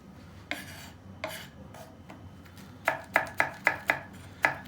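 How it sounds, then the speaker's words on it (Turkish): A knife chops green pepper on a cutting board, a few scattered cuts and then a quick, steady run of crisp chops. "Bir tane de içine yeşil biber doğrayın."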